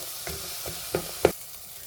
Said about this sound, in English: cook this down for a little bit until the onions and carrots and celery are cook down a little bit here